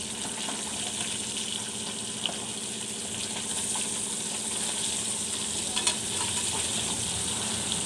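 Fish coated with red chilli powder, turmeric and garlic frying in oil in a pan, a steady moderate sizzle with faint clinks and a brief water-like wash, no talk.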